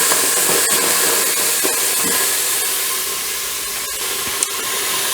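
Onions sizzle in a hot Instant Pot on sauté mode for a vegan, oil-free dal, giving a steady, loud hiss with a few faint clicks, no voices.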